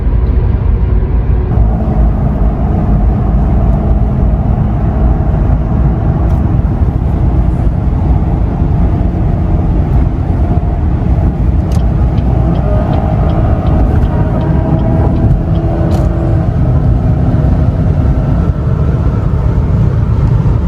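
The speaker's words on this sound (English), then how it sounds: "The 4-cylinder doesn't sound great." The 2.0-litre four-cylinder turbo engine of a 2014 Cadillac ATS AWD drones steadily from inside the cabin, a loud low rumble with a slowly shifting tone as the car drives on.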